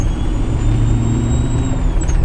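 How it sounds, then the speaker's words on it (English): Steady, loud hiss from a boost leak through a cracked boot on a 6.0 Powerstroke diesel truck, riding over a constant low engine drone with a thin high whistle, close and continuous while driving. "That's the boost leak that is very, very obnoxiously leaking through the cracks in the boot"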